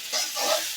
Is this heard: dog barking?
no